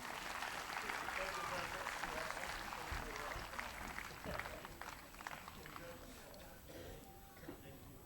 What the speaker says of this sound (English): Let's give a round of applause for our leaders and our chiefs.